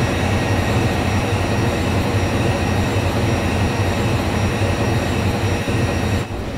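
Freight train rake hauled by dual WDM 3D diesel locomotives passing in the MSTS train simulator, a loud steady rumble and wheel roar throughout that eases slightly at the very end.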